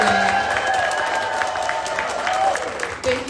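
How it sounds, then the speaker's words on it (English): Applause from an audience for a panel at a Nordstrom event in New York City, steady broadband clapping for about three seconds with crowd noise and some voices mixed in. "big round of applause for our panelists today"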